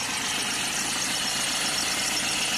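A car engine idling with a worn, squealing fan belt, a steady mid-pitched hum with a faint high chirping whine running continuously throughout, heard up close and alone.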